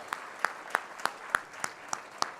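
Congregation clapping in a church during an evangelical service: about eight spaced, crisp claps at a steady slow rhythm, moderately distant, with a faint room wash between them.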